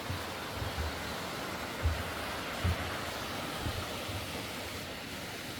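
Cheondang waterfall high in the rocky cliffs of Seoraksan's mountain ridge roars as a continuous broad rush of water, with a few soft low thumps from wind or handling and no speech.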